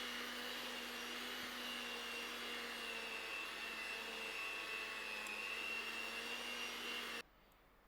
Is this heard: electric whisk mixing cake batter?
yes